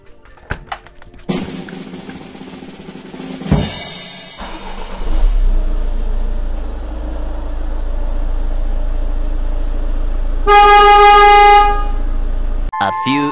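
A Peugeot 2.0 HDi diesel car with a starting fault cranks briefly and then settles into a steady low engine idle, with a loud horn-like tone partway through and clicks around it.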